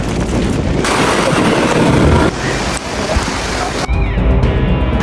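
Stormy sea water surging onto a street in Jaffna during a cyclone, a loud roaring wash of waves and heavy wind buffeting the microphone, continuous and close with sudden gusty shifts.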